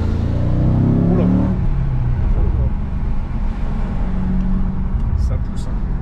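An Audi RS4 with a 4.2 V8 rated at 440 hp pulls hard, its rising, growling engine note loud and close from inside the car, then easing to a steady cruising rumble.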